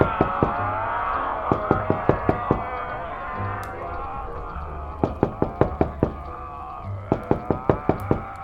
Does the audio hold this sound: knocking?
yes